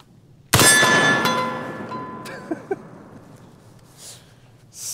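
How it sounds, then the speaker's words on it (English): A single loud gunshot from a .50 Beowulf rifle aimed at a steel target, a sharp blast with a long ringing metallic decay and a couple of faint later clinks. "I'll just go ahead and shoot one round to show you guys how powerful it is"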